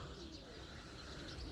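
Racing pigeons coo softly and continuously in a loft after a demanding 22 km headwind training flight, a low steady murmur with faint chirps over constant background noise.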